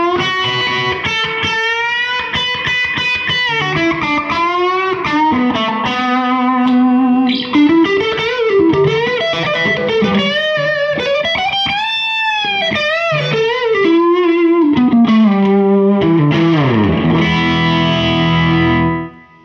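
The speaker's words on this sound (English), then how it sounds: "Pretty damn nice distortion, no boost, no tube screamer engage." A Jimmy Page Signature Telecaster played through a Supro Black Magick amp with pure amp distortion and no boost pedal, ringing out loud, sustained, melodic lead lines and bends that end in a final strummed chord, with no talking.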